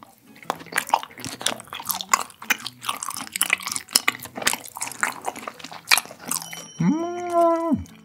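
Someone chews raw beef sashimi coated in garlic, with soft wet bites and squishy mastication close to the mic, ending in a short high tonal squeak.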